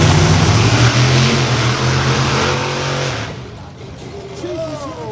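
A drift truck at a live arena show, powered by two 9.5-litre, 1800-horsepower Chevy Big Block V8 engines, revs with a loud, deep roar that fades slightly before a voice is faintly heard near the end.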